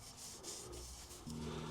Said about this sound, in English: we're using a bigger countersink just to get a nice little edge on it